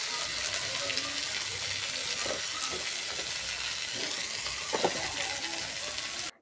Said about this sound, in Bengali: এবার সব মশলাগুলো আমি ভেজে নেবো